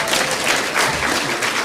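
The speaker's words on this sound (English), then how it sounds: "Let's appreciate him with a clap." Audience clapping at the launch of a corporate sustainability report, a dense, fairly loud burst of applause from many hands continuing without pause.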